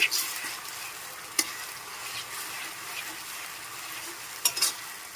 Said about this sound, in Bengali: ভালো করে মশলাটাকে নেড়ে ছেড়ে কষিয়ে নিচ্ছি